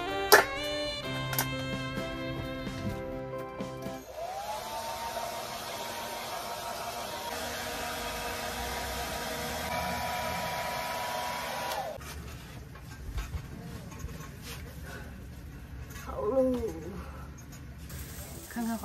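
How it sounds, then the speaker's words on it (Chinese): A hair dryer blowing for several seconds indoors in a camper van on a humid rainy day, a steady airy whoosh of moderate level heard from a short distance, with other household sounds around it. "吹个头"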